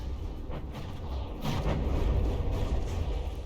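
A volley of naval gunfire in the video game From The Depths, heard as rumbling, booming shots that swell in the middle and roll on as a dense, continuous low roar.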